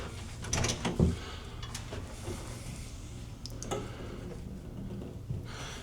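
Cabin doors and drawers in a Norwegian Pride of America cruise suite close with a couple of soft thuds and clicks near the start, then a low hum of cabin noise.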